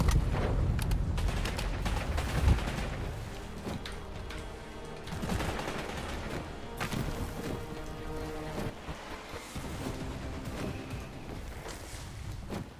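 Gunfire in a free vampire battle royale video game: scattered, fairly quiet bursts of shots crackle over a washy ambient background with no talking.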